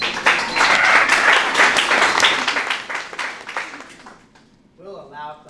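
Audience at a county school board candidate forum clapping loudly for several seconds before the applause fades out and a voice begins speaking.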